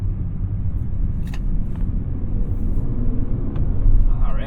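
A 2024 Nissan Z sports car rolls around a city block in a softened valet throttle mode, its engine a steady low rumble heard from inside the cabin, with a few faint clicks and rustles over the drone.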